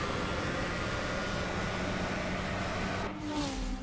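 A Bugatti W16 engine roars during a drag race in the video game CSR2, a loud, dense, continuous rushing drone that shifts with a gear change near the end.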